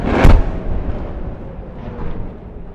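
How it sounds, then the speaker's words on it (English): A large Iron Dome rocket interception explosion over Tel Aviv: one sharp, loud boom near the start, followed by a long, rumbling roll of echo that slowly fades. "That was a rather large explosion."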